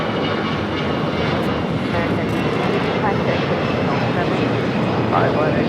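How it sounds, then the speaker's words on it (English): A China Airlines cargo Boeing 777 freighter touches down on runway 25 left at Los Angeles, a continuous loud rumble of engines and rushing air, with talk over it. "China Airlines cargo 777 freighter touching down at 25 left."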